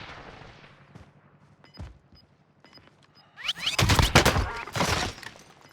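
Sniper rifle fire in Call of Duty Warzone: faint, sparse clicks and small pops give way to a loud, close burst of shots and cracking impacts that rings out and fades.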